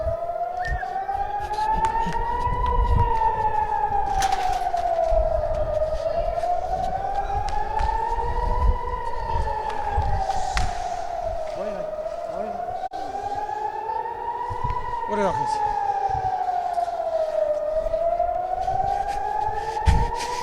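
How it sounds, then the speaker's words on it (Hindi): An air raid siren wails in long, slow rising and falling cycles in Tel Aviv during an attack, loud and continuous, with voices talking underneath. "एक बार फिर से सायरन बज गए हैं"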